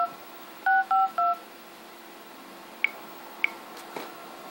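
Three short touch-tone dialing beeps sound in quick succession on a phone calling out through a Panasonic 308 PBX, followed by a few faint clicks in a quiet room.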